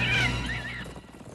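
A cartoon horse whinnies loudly at the start, a high wavering neigh that fades within about a second over a low background of music.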